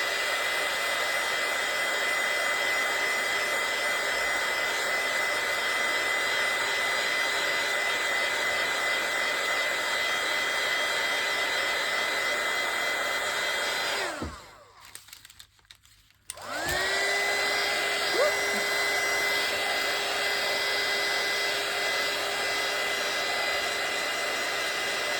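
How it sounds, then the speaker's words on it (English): A hair dryer blows steadily and loud to dry an altered book page, cutting out briefly for a second or two partway through before whirring back up to full speed. "Let's dry it."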